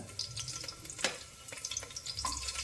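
Green chillies and onions sizzling and frying in a pan for a chickpea kurma, a steady crackling hiss with intermittent sharper pops and stirring scrapes, close up.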